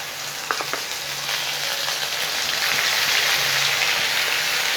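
Ground masala paste drops into hot oil for a rajma masala and sets off a loud, dense, continuous sizzle, like steady rain, that builds and holds close by.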